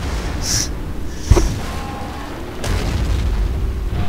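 Half-track vehicle blowing up in a strategy video game: a sharp boom at about 1.3 seconds over steady battle rumble, followed by a second swell of noise near the end.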